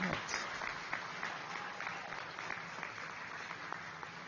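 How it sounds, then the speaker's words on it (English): Audience at a pharmacy white coat ceremony applauding loved ones, a dense sustained clapping from a large crowd filling the room, with a few voices mixed in. "give your loved ones a round of applause"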